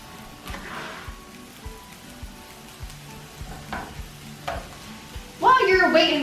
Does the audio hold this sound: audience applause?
no